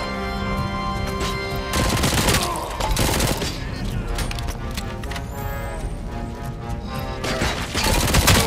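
Rapid bursts of gunfire in the Robocop: Rogue City video game, loud and nearly continuous, mixing repeated automatic shots with heavier booms.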